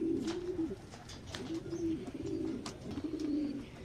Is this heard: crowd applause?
no